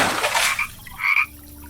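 A cartoon frog in a Bengali fairy-tale animation croaks loudly and close by, two short raspy croaks separated by a brief pause.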